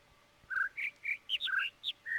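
Bird chirps from the video game The Witness: about nine short, clear whistled notes in quick succession that alternate between higher and lower pitches, close and distinct over a quiet background.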